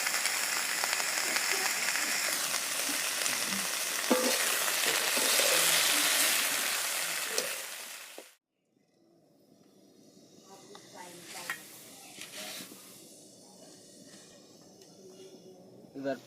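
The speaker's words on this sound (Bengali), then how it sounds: "সবজিটাকে আগে ভেজে নিচ্ছি" Vegetables frying in hot mustard-style oil in a pan, a loud steady sizzle for about eight seconds that cuts off abruptly, followed by quieter crackling and faint stirring sounds.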